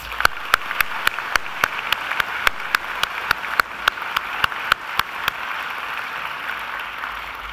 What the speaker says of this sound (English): I think we can give her another round of applause